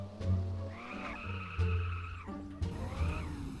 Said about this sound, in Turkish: Ferrari'nin sesi nasıl?